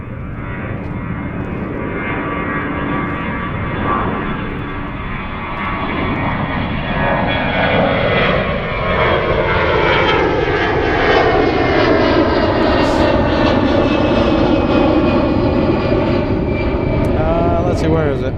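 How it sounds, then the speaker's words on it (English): An Emirates Airbus A350 jet departs Zurich airport, its engines roaring loud and steady for the whole stretch as the pitch slowly sweeps while the aircraft climbs and passes, with a voice talking faintly underneath. "A350 departure of the Emirates."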